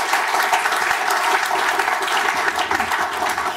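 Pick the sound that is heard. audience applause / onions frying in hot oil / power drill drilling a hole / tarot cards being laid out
audience applause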